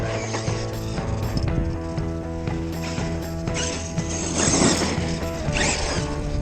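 Traxxas E-Revo VXL 2.0 RC car running, its electric drivetrain giving a steady, loud whine with gear rattle and rising surges under light throttle, fairly close.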